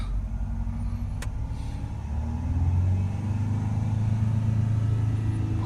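A Range Rover 3.0 engine with an intake air leak fault is revved while parked, a low steady rumble that rises and grows louder partway through as it accelerates, then holds at a higher drone, heard from inside the car, no talk.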